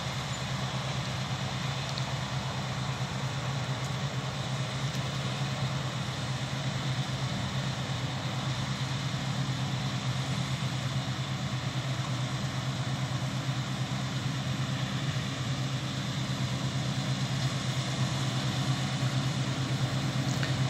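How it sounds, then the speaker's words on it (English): A harvest tractor's engine runs steadily throughout, a continuous low drone with broadband mechanical noise and no clear rise or fall, no voices heard. "Got the tractor now coming from behind."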